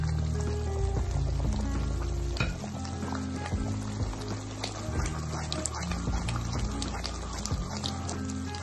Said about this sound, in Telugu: ఇప్పుడు నెయ్యి పోసుకోవాలి.